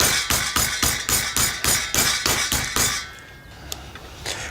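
Lamb cutlets, bone included, pounded flat in a kitchen with about ten sharp, regular heavy thuds, then a pause and a few scattered lighter knocks.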